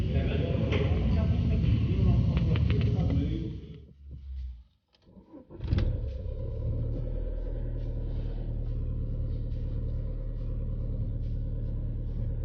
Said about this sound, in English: Now check it out, it holds idle again.